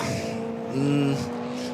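Race cars at the Nürburgring 24h Classic, a Shell Mercedes 190E and a Porsche, roar past together, one engine note swelling louder at mid-pass and then fading back into a steady mechanical drone.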